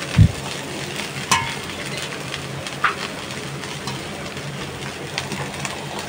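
Fish roe frying in a pan with green chillies and coriander leaves, a continuous moderate sizzle under a few sharp clinks and scrapes of stirring, no talk.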